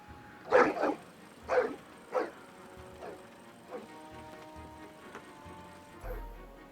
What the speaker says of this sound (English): escape the mechanical dogs.